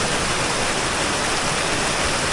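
A steady, loud rush of falling water at the source of the Madhuvanti River in Gir, continuous and unbroken like a close waterfall.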